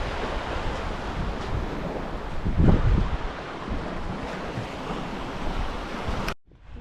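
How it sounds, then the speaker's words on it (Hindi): Sea waves wash onto a beach with a cool wind blowing across the microphone, a steady surf roar that swells to a louder crash around the middle and cuts off abruptly near the end. "बीच पे कितनी मस्त मस्त वेव्स आ रही हैं। थोड़ी थोड़ी ठंडी ठंडी हवा चल रही है यहाँ पे"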